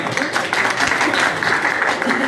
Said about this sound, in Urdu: اپنے لیے اچھی سی تالیاں بجائیے گا